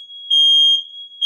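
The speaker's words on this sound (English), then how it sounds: "That's the fire alarm that's in my household." A sensitive household smoke alarm gives a piercing high electronic beep, loud and close, pulsing in short bursts across about a second.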